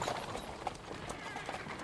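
Horse hooves clip-clop in the Kingdom Come: Deliverance 2 video game, a quiet, steady run of soft hoof beats at a walking rhythm with some faint background noise.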